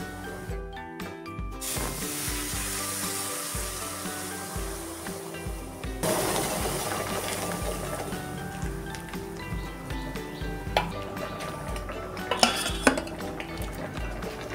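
Dal poured into a hot pan of dried red chillies and black cumin, giving a steady sizzle and hiss with scraping and clinking of a metal ladle against the pan, close and continuous without talk.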